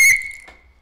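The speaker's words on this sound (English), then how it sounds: "I like the whistle." A whistle gives one sharp, bright blast that cuts off quickly and leaves a faint ring fading out over most of a second, heard alone and close.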